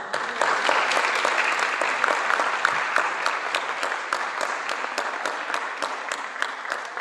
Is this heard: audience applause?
yes